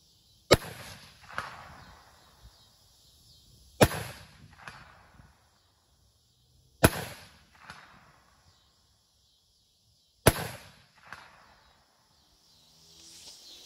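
Four sharp, well-spaced rifle shots from a G43 battle rifle at a shooting range, each crack followed by a brief rolling echo, heard alone without talk.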